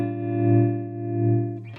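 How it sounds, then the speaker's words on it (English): A sustained distorted guitar chord throbs with a smooth, even sine-wave tremolo from a Chase Bliss Audio Gravitas analog tremolo pedal, swelling and dipping in volume in slow regular waves before being cut off. "So we've got this as our basic standard tremolo."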